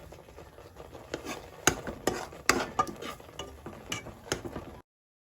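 A spoon stirs a vermicelli cup pudding mixture with condensed milk in a pot, giving irregular close scraping and clinking strokes, quiet and alone, before stopping abruptly.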